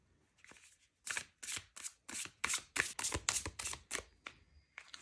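Tarot cards being shuffled close up in a quick series of crisp riffles and snaps, about a dozen bursts in a steady rhythm, with no talking.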